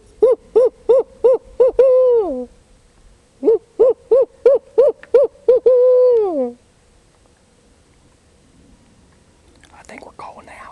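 Repeated owl-like hoots come in two rhythmic bursts, loud and close, during turkey calling, with a soft whisper near the end; the hoots sound like a person imitating an owl call.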